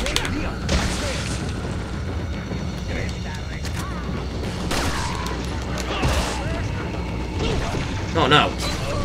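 Gunfire and shotgun blasts from shooting enemies in Resident Evil 4, with bursts of shots and booms amid mechanical clanks, under excited talking from a player.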